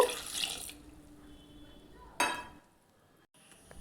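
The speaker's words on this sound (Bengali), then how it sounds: "অল্প একটু জল দিয়ে আমি এটাকে ভিজিয়ে রাখবো খানিকক্ষণ" A little water is poured over ingredients in a home kitchen to soak them: a short splashing pour at the start, then a quieter stretch and a second brief burst of running water with a faint clink.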